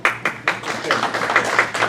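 Clapping at a Republican town committee nomination meeting after a nominee's name is read, a few sharp separate claps at first, then a short ragged burst of several people applauding close by.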